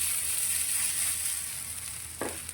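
A spoonful of bottle gourd thepla batter sizzles on an oiled pan over a low flame, a steady close hiss that fades slightly, with one short tap near the end and no talking.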